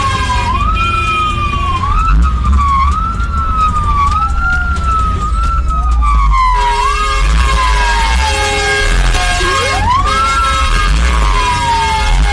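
A fire truck speeding to a fire with its siren wailing loudly and close, in repeated rising and falling sweeps, then switching to a different siren pattern halfway, with traffic rumble underneath.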